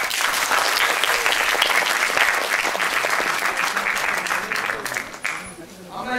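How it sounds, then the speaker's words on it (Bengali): Audience at a stage adaptation of an African playwright's village drama claps steadily in dense, sustained applause that thins out toward the end. "একটু হাত তালি দেবেন"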